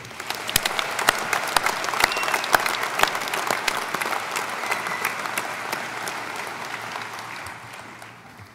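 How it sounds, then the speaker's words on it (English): A large audience claps at a spring college commencement ceremony, sustained crisp applause with sharp individual claps standing out, swelling early and slowly tapering off near the end. "Let's give another round of applause to Michael."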